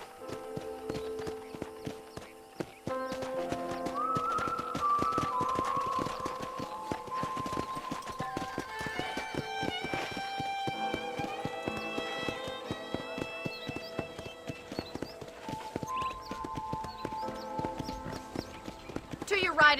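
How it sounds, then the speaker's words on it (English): Steady clip-clop of horse hooves trotting in Red Dead Redemption under a busy musical score, with a voice speaking over it. "let's see if you can still ride a horse"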